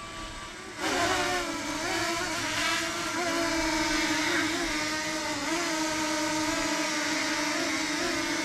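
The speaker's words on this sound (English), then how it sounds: "So the Mini's pretty cool, very responsive little drone." A DJI Mini 2 drone flying in sport mode gives off a loud, steady high-pitched propeller whine whose pitch swells and dips as it maneuvers, sustained close by for several seconds with no talking.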